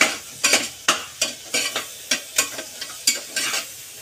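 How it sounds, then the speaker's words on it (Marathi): Chicken sizzles while being stirred and sautéed in a pot for biryani, with about a dozen sharp scraping stir strokes in a quick, uneven rhythm over a low frying hiss. "चिकन टाकून चांगलं परतून घ्यायचं."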